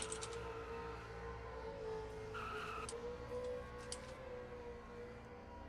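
A race car spinning out in the MRL Busch Series racing game at Phoenix, with a faint tire squeal and skid over the steady hum of engines, fairly quiet and distant.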